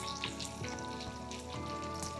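Onions frying over a high flame in a pan for chicken dalcha, a soft continuous sizzle and crackle with steady background hum, no talking.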